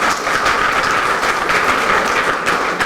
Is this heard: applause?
yes